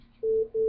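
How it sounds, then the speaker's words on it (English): Incoming-call beeping from a mobile phone: two sustained electronic tones in quick succession, each lasting about a fifth of a second, loud and close over a quiet background. "Oh, my phone's going off."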